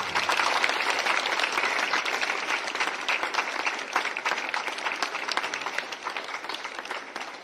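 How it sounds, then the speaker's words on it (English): Sustained applause from a large crowd of students at a school celebration in Jharkhand, India, dense steady clapping that stays loud throughout with no voices standing out. "one more clapping for this"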